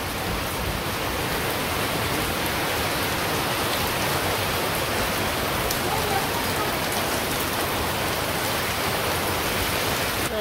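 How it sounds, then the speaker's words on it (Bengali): Heavy rain pours down over a village under a dark sky, a dense, loud and unbroken roar of drops on surfaces that stays steady throughout. "এইদিকে মনে হয় নামছে বেশি বৃষ্টি"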